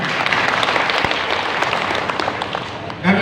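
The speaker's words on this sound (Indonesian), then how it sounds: "Tepuk tangan untuk ibu kita." Applause from a majlis ta'lim audience at a religious gathering in Tulehu, Maluku: steady, dense clapping of a crowd sustained throughout, with a louder surge at the very end.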